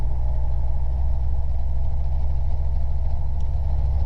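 A Robinson R22 helicopter's warm piston engine runs steadily at 75 percent RPM during a flight lesson, heard from inside the cabin as an even, low, droning rumble with no speech.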